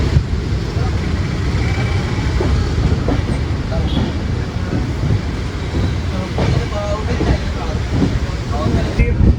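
A Mangala Lakshadweep Express train on the Konkan Railway rumbles along the tracks with a continuous heavy roar and faint rhythmic clatter, loud and close throughout.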